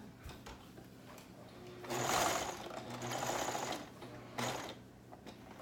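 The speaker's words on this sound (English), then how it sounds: "we're going to sew them together just like we did sew the other ruffles" Sewing machine stitching two raw ruffle edges together on a high-low garment, a steady whirring run that swells louder in the middle, then eases back, heard alone.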